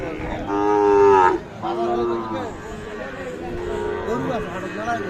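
Sahiwal bulls at a busy cattle market give several loud, drawn-out moos close by, with a steady murmur of crowd chatter underneath.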